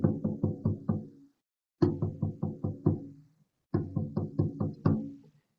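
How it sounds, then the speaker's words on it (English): A shamanic drum plays the return beat in three close, resonant bursts, each a quick run of about six or seven evenly spaced hits with short pauses between the groups. "it's going to be a rhythmic drum beat"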